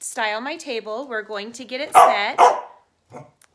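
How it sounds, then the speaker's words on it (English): Loud, repeated barking from a pet dog indoors in a farmhouse-style home, a run of sharp barks close by that overlap a woman's speech, then a faint final yip. "So I apologize for the barking."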